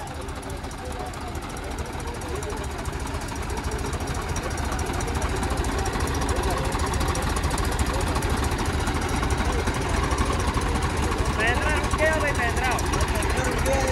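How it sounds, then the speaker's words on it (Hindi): Mahindra 265 DI and Sonalika DI 750 tractors climbing an incline under heavy load, their diesel engines laboring in a steady loud drone with knocking, while people talk over the noise. "महिंद्रा अभी है ना फंसने लग गया है यहीं पे और सोनालिका है वो चढ़ रहा है अभी आगे भी"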